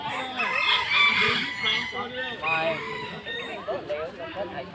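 Several chickens clucking with a rooster crowing repeatedly, loud and close, overlapping calls throughout.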